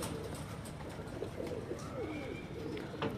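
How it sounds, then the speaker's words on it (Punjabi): Golden kamagar pigeons on a rooftop coo in low, repeated murmuring phrases at close range, with a few thin chirps and a background hum. "ਗੋਲਡਨ ਕਮੱਗਰ ਕਬੂਤਰ ਜੀ।"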